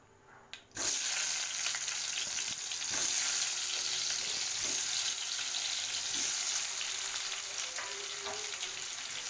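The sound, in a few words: potatoes frying in hot refined oil in a kadai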